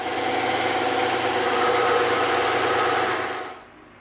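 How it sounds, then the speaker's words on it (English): A bandsaw cuts through EVA foam with a loud, steady, close whine and buzz lasting about three and a half seconds, then quickly drops away to a quiet hum, with no speech. "we're gonna hit these on the bandsaw real quick."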